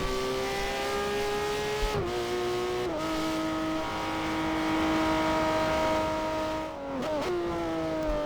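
A car engine holding a steady high drone during a fast lap of a racetrack in the sandbox game Garry's Mod, pitch dipping briefly with gear shifts or braking a few times before climbing again, close and continuous.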